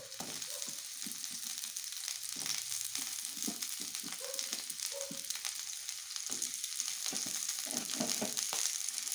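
Ginger and garlic frying in a hot wok, a dense continuous sizzle with scraping stirs, steady and close throughout.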